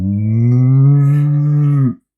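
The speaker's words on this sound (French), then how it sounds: "Ah, je sais que c'est la vache." A cow lets out a single long, loud, low moo that holds steady for about two seconds, then stops abruptly, close by with no other sound.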